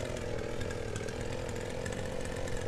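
A lawnmower engine in the farming video game Farmer's Dynasty drones steadily and loudly with a rough, buzzing rattle, running alone throughout without any voices.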